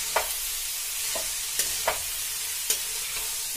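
Finely chopped vegetables for a veg spring roll filling are tossed and stirred in a pan, with a steady sizzling hiss broken by a few sharp scrapes of the spoon, close and without speech.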